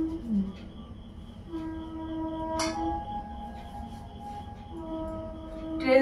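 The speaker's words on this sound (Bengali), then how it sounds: "ট্রেন যাচ্ছে" A train running on a rail line close to a village house, with sustained horn-like tones that hold and shift, rising to a brief louder burst at the end, heard moderately from a short distance.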